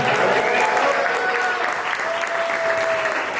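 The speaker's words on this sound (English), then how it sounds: "Y'all make some noise in this motherfucker one time," Steady applause from a large crowd with scattered cheers, sustained and dense throughout.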